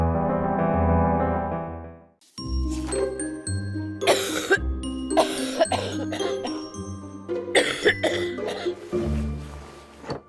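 Several deep, wet, chesty coughs in a row with brief gaps between them, loud and close, followed by a tinkling chime.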